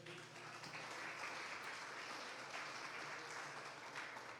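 A church congregation applauding during a Portuguese-language sermon, a faint, steady wash of many hands clapping at a distance, continuous without breaks.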